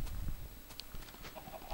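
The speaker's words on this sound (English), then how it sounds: "Oh, you see this chicken trying to escape me." A chicken in a blocky survival video game clucks softly and intermittently, quiet against a busy game background.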